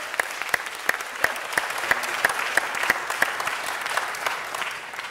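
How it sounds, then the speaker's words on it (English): A room at a city council meeting breaks into applause, with scattered sharp individual claps standing out over a steady wash of clapping for about five seconds. "And let's give him a round of applause."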